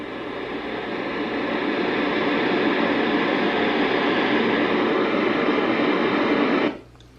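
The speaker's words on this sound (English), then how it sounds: "it just gives you a nice stream of white noise" A white noise machine turned up loud, a dense, even hiss that holds steady for several seconds and then cuts off abruptly near the end, leaving quiet room tone.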